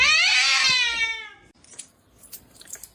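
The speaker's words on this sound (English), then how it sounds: "This is my great cat." A cat lets out one loud, close, whining meow that fades away over about a second and a half, followed by faint light clicks and rustles.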